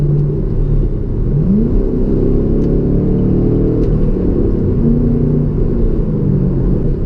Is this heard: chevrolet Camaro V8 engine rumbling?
yes